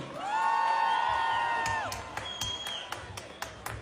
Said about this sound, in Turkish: Lütfen kuvvetle bir alkış istiyorum.